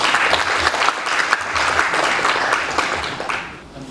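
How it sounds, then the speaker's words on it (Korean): Applause from a lecture audience welcoming a speaker, a dense, steady crowd clapping for a few seconds before fading slightly at the end. "박수로 부탁드리겠습니다."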